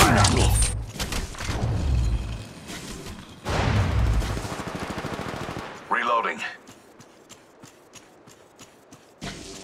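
Rapid automatic gunfire in the mobile shooter Apex Legends Mobile, with loud, close bursts of rattling shots and a brief pause between them, followed by quieter footsteps and scattered clicks.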